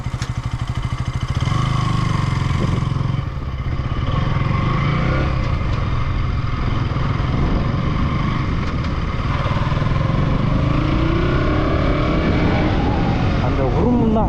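A KTM Duke 200 motorcycle engine cold-started, firing into a loud, steady single-cylinder idle that holds close by, with a voice talking over it.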